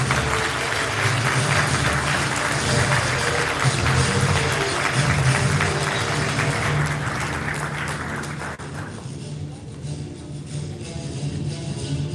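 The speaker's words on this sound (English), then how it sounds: "Please give them another big round of applause." Guests at a thank-you dinner for UN Korean War veterans give a long, steady round of applause in a banquet hall, a dense sustained clapping that softens slightly toward the end, with faint voices beneath.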